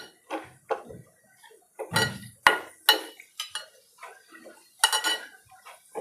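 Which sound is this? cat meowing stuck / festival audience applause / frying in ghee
frying in ghee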